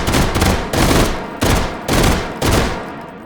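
A Luger carbine in H3VR fires a 32-round burst: loud, rapid full-auto shots in several sustained strings, each cut by brief pauses, with no talk over them.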